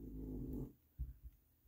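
An old Beagle Basset mix dog snores nearby, a long low rumbling breath followed by a couple of softer short snorts.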